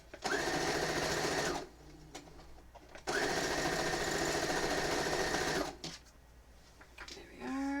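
Sewing machine stitching quilt pieces in two long steady runs of fast, loud whirring separated by a short pause, ending with quieter rustling and a brief mechanical squeal.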